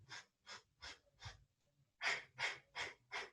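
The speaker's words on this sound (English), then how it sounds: "You'll hear a little constriction in the back of your throat." Ujjayi yoga breathing with a constricted throat, a steady series of about eight hushed, rasping breaths in an even rhythm, close and soft, the later ones louder, with no talking.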